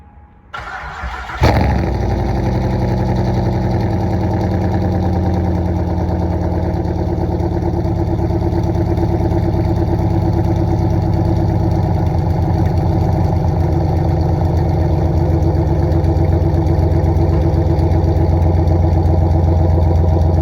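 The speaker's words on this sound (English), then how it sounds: "let me get the Grand Prix started and get the day going" Pontiac Grand Prix GXP engine cranking briefly and catching with a loud start, then settling into a steady, rumbling idle close by for the rest of the stretch, with no talking.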